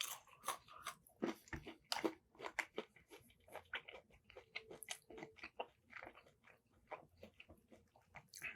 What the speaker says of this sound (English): it's got a little bit of a crunch to it, which I really like